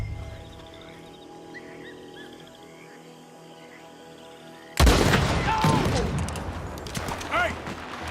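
Gunfire erupts in Red Dead Redemption 2, a loud sudden burst of overlapping shots and booms after a quiet stretch of night insects and frogs, continuing as a dense fusillade.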